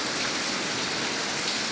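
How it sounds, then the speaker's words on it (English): Steady rain pattering down on a freshly washed Chevrolet Corvette Stingray, a dense continuous hiss of drops with no talk over it. "too bad he gotta go out in the rain"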